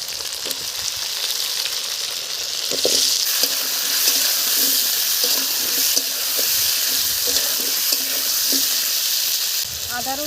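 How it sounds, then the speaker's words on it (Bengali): Potatoes and half-fried onions frying in a pan, giving a continuous close sizzle with intermittent stirring scrapes and clinks throughout, no voices. "আলুগুলো দিয়ে দিলাম।"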